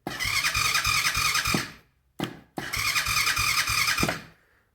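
A Coleman AT125UT four-wheeler's starter cranks twice without firing: a long grinding, whirring burst, a brief blip, then a second long crank. The bursts are close and loud, with short pauses between them and no speech.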